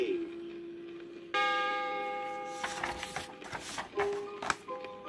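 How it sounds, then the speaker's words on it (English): A bright chiming tone signals the page turn on a 1980 Strawberry Shortcake read-along book record, ringing out clearly alone with sustained harmonic overtones before a few softer bell-like strikes follow. "when you hear the chime, turn the page"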